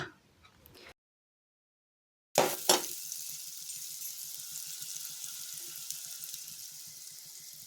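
Masala frying in a pan while being stirred: a short sizzle, then a gap of silence, then a loud hiss and scrape as stirring begins, easing into a steady, faint crackle with soft rhythmic ticks.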